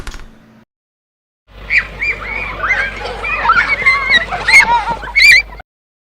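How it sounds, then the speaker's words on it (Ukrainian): Children playing on a playground: a lively, busy stretch of high young voices, shrieks and chatter. It starts after a short quiet pause and keeps going at close range for about four seconds. "Це діти граються на дитячому майданчику."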